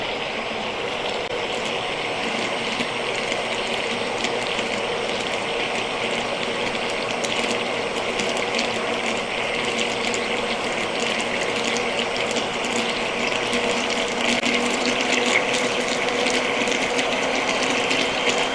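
A blender whirs continuously in a small pot of honeynut squash, a dense, even grinding roar that holds and rises slightly in intensity, with no talking.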